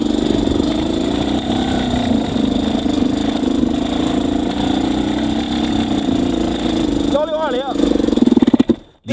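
A dirt motorcycle engine fitted with a Lectron Billetron Pro 38 carburetor labors through a climb at low RPM, a loud, steady, close drone that holds evenly, then falters and cuts out at the very end.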